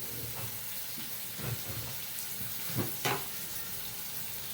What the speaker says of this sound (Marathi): तर हे असं मस्त तेलामध्ये खालीवर परतवून घ्यायचं वांग